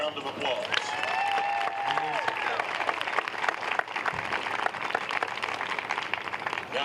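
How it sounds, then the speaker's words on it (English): Crowd applause for sponsors and officials at the 2026 Big South Conference Softball Championship, steady clapping throughout, with a sustained tone and faint voices over it early on. "Once again, please give all of these individuals a round of applause."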